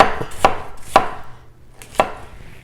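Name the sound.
chopping an onion with a handmade knife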